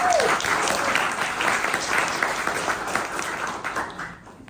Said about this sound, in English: Can I have a round of applause for that, please?